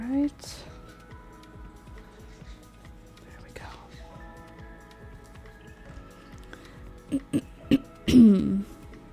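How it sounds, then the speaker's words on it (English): Soft coughing and throat clearing close by near the end, a few short bursts following quiet handling noises and faint low talk. "I've been coughing"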